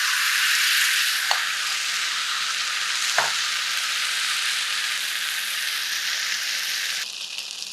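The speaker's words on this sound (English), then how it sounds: "sound of the oil bubbling up" Oil bubbles and sizzles steadily in a pan while tuile batter cooks, a constant close frying hiss with a couple of faint clicks and no talking.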